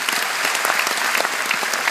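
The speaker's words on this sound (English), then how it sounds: "Please give them a round of applause." Audience applauding at a citizenship oath ceremony in Dublin, a dense, loud, continuous burst of clapping from a large crowd.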